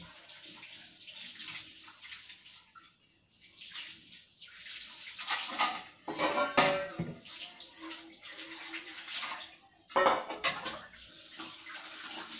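Dishes being washed under running water, with uneven splashing and gushing that swells and drops, loud clattering bursts partway through and near the end, and no talking.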